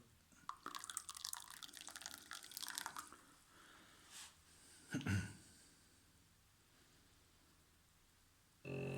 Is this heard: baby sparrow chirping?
no